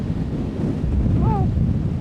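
Strong wind of 20 to 25 knots with higher gusts blows across a sailboat anchored on the Grand Bahama Bank, a loud, constant low rush and buffeting on the microphone with a brief faint whistling note partway through.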